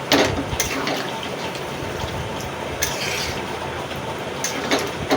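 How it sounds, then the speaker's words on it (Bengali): Water pours into a cooking pot for a curry, a continuous close gushing splash that stays loud and steady throughout with no talk. "এরপরে আমি এখানে জলটা দিয়ে দেবো পরিমাণ মতন।"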